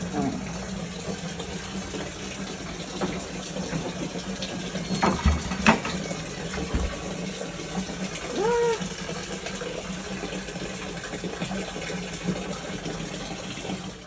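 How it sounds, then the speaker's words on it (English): Water runs from a tap into a bucket during a tiny house expansion project, a steady, moderate rushing with a few knocks and a rising filling tone partway through. "I'm filling up that bucket"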